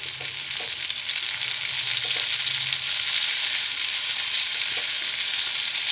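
Onions and tomatoes fry in a pan, producing a loud, continuous sizzle that swells slightly midway, with a few soft scrapes and taps from stirring close to the pan.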